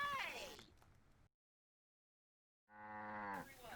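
A cartoon cow moos in the 2007 Sam & Max video game episode Situation Comedy: one drawn-out, tonal lowing call follows a short burst of talk and a silent gap, clear and close, with speech at the start.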